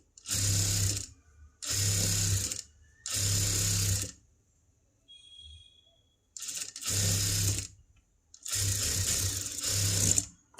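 A sewing machine stitches a folded piece of a princess-cut boat-neck blouse in five or six loud, close bursts of a few seconds each, separated by short pauses with soft handling sounds.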